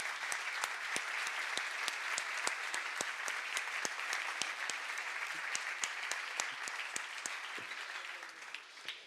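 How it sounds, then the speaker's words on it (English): An audience at a real estate industry gathering applauds steadily, a continuous wash of clapping with sharp individual claps standing out, then tapering off near the end. "I would like to have your applause for Eric van Leuven"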